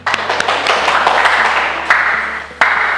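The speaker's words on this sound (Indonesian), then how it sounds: "berikan tepuk tangan dulu biar semangat." Classmates in a university teacher-training class clap for a student group's performance: a steady, dense patter of hand claps fills the room, with a few sharper claps standing out near the start and end.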